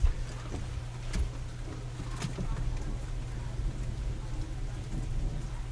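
Steady rain hisses as a constant wash of noise, with a few sharper drips and taps over a low rumbling hum.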